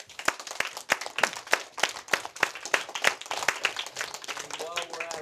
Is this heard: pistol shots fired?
no